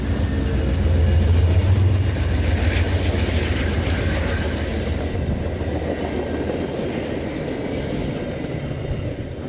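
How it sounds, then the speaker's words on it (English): A model train rumbles past close by on a layout, a steady low roar with rail clatter that slowly fades over several seconds. "That's a train."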